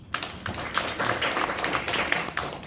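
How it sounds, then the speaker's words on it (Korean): A forum audience claps together in a steady, dense round of applause, close and even from start to finish, with no voices over it. "박수 한번 먼저 쳐주십시오."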